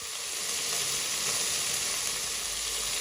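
Loud, continuous sizzling and spitting of liver frying in a pan, close and even throughout, with no voices.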